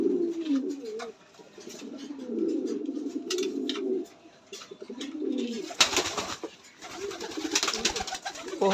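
Pigeons coo in a loft with nests and eggs, low rolling calls repeating close by, followed by a burst of scuffling and wing rustle.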